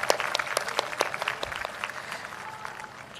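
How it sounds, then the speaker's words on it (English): Scattered audience clapping at a valedictory ceremony, individual claps distinct and uneven, moderately close, thinning out and fading over a few seconds. "May I request everyone to give a big round of applause to our respected principal and"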